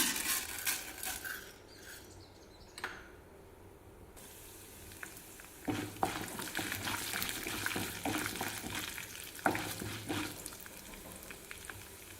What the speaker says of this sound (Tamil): எண்ணெய் ஊற்றியாச்சு உளுந்தம் பருப்பு நிறையா சேர்த்துக்கிறேங்க